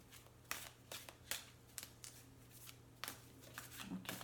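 Tarot cards are shuffled by hand in soft, quiet riffles and flicks, a series of brief papery bursts in an uneven rhythm close by.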